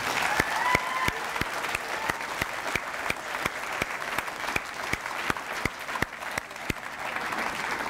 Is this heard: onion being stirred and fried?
no